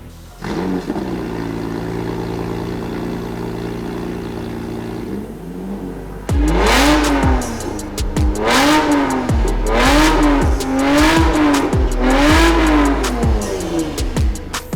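A street-legal NASCAR Cup race car engine starts and idles, then revs hard again and again through a loud exhaust, each rise in pitch climbing and dropping sharply, close by.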